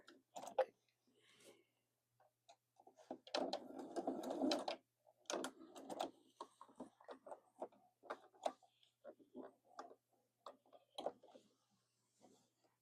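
A sewing machine stitches quilt binding in short, quiet bursts of rapid needle clatter, stopping and starting with soft clicks and handling noises between runs, fairly close.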